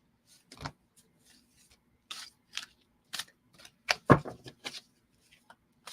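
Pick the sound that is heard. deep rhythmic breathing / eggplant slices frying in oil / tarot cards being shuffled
tarot cards being shuffled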